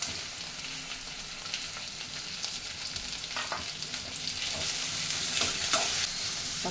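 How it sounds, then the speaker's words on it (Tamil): Tomatoes stirred into frying onions in a pan for a kurma, a steady close sizzle with scraping, stirring strokes. "இப்போ நம்ம என்ன செய்யணும்னா தக்காளி இதில் போடணும்"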